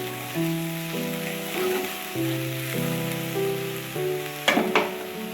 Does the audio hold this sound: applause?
no